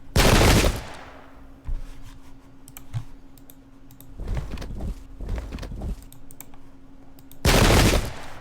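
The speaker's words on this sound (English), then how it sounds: "So we'll just open fire." Musket volleys crack in a Pike and Shot battle game: a loud burst opens, a few sharper scattered shots follow in the middle, and another loud volley closes, over a steady low hum.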